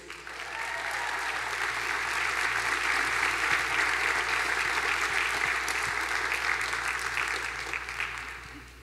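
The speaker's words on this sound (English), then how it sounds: "One more round of applause for that crew." Sustained applause from a breakfast audience in a room, rising to a full steady peak and tapering slightly at the end, with no speech over it.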